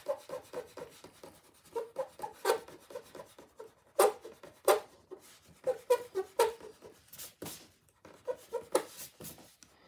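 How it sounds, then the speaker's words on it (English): An eraser rubs out pencil construction lines on paper for a castle drawing, giving a close, quiet series of quick rhythmic scrubbing strokes with brief pauses. "we can just rub out the rest of the lines"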